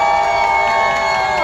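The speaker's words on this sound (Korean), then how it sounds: "다시 한번 큰 박수 부탁드리겠습니다" A large candlelight rally crowd in Gwangju's Democracy Square cheers and applauds in a loud, continuous roar of voices that swells with sustained shouts.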